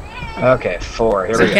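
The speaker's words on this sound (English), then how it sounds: "No, he's patting his cat." A pet cat meows several times while being patted indoors at a tabletop gaming session, the calls rising and falling alongside nearby conversation.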